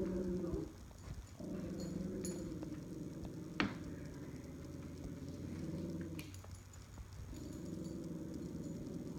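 A small dog growls in a low, steady rumble up close for several seconds while it scrubs and cleans, with soft rubbing and shuffling noises underneath.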